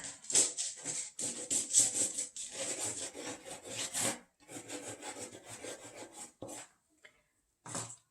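Hardened pigment finish being scraped off a wooden surface, heard as close, rapid rasping strokes in quick bursts, with short pauses before a final few scrapes.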